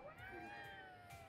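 A cat in the video game Ghostwire Tokyo giving a single drawn-out meow with a wavering pitch, clear and close, followed by a brief click.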